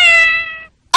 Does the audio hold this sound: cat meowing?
yes